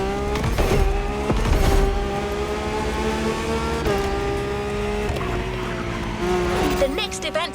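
A car drifts in the racing game The Crew Motorfest, its engine droning steadily while tires squeal and skid loudly through long slides. There are surges at the start and a chirping squeal near the end.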